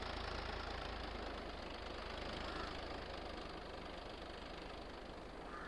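A Swaraj 963 FE tractor idles in Farming Simulator 22, its engine giving a steady, low, even drone with a faint knocking texture and no talk over it.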